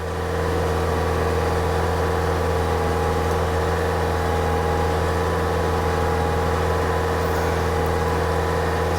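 A Kia car engine under recall inspection runs steadily at 2,500 RPM, a continuous loud hum with a low drone and no voices.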